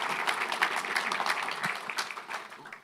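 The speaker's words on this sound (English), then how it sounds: "So give them a big round of applause." An audience at the JNUC 2023 conference session applauds the speakers, a steady patter of many hands at moderate volume that gradually thins and fades out.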